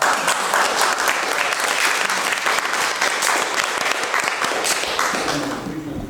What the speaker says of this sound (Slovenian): Tako pa kar zaploskamo še enkrat.